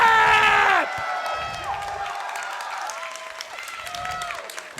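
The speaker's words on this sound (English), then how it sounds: "He's standing up at his desk, he's clapping." Crowd clapping and cheering at a TF2 LAN grand final in Australia, a loud burst of applause that quickly drops to a lower ongoing roar under an excited voice.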